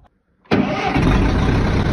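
A classic vintage tractor engine bursts into life after a short silence, catching abruptly and then settling into a loud, steady rough idle close by with no talking.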